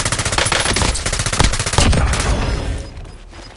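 Rapid machine gun bursts in the Warzone video game, loud and close, firing in quick stuttering runs that trail off toward the end.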